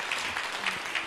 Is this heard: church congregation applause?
yes